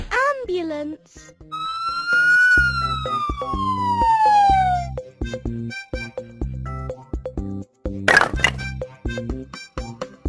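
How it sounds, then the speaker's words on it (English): An ambulance siren wails in a loud, sweeping tone that rises and then glides down over several seconds, backed by cartoonish music and short bursts of cheerful speech. "Ambulance!"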